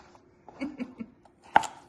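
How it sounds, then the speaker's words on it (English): Knife chopping vegetables on a board for a summer salad, a handful of soft, separate taps at a steady pace with one sharper, louder knock near the end, heard close and alone. "Here goes Moss in her expert chopping."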